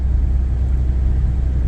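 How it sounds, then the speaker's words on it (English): A two-wheel drive pickup truck driving on snowy roads gives a loud, steady low engine rumble that stays constant throughout, with no voices. "That's a two-wheel drive truck there."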